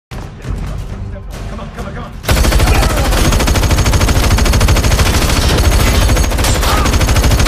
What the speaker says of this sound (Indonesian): Hill kemudian melepaskan tembakan